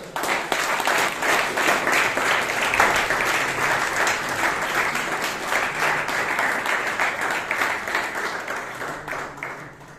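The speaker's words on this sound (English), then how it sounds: "let's have a good round of claps" An audience at a Toastmasters club meeting gives a full round of applause, many hands clapping in a dense, continuous roar that holds steady for about ten seconds before easing slightly at the end.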